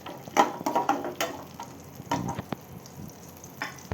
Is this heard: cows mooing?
no